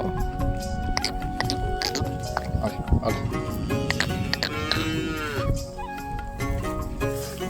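A buffalo on a farm, where it attacked a foal, gives deep moos and bellows amid busy outdoor noise from other livestock, with people talking in the background.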